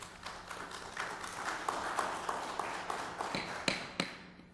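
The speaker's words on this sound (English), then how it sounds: "I would ask if we could refrain from clapping" An audience claps at a city council meeting in Elmhurst, a moderate, steady patter of many hands in a room with scattered sharper claps toward the end.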